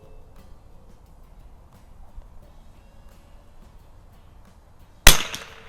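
A single sharp crack from a Remington bolt action .22lr rifle, fired outdoors near the end after several seconds of quiet ambient hiss, loud and close with a brief decaying tail.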